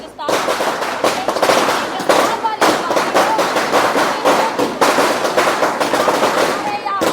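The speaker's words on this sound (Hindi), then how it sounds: "पटाखा भी बंद कराओ।" Rapid strings of firecrackers crackle and pop continuously during Diwali, loud and close, with dense bursts overlapping throughout and voices faintly mixed beneath.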